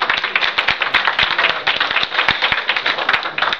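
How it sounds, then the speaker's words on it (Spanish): Group applause in a seminar-style session, a close room of people clapping with distinct, sharp individual claps forming a lively, fairly loud patter throughout. "nos faltó un aplauso para ellos primero."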